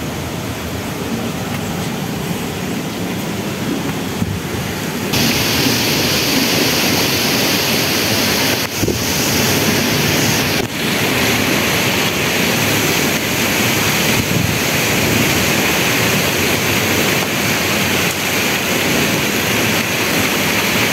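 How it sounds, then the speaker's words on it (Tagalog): The Au Pui Wan stream in Sha Tin, Hong Kong, rushes over a dam-like drop in a loud, unbroken roar that grows fuller after a few seconds. "Tubig yun."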